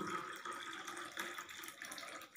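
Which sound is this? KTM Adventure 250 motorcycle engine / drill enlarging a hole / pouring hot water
pouring hot water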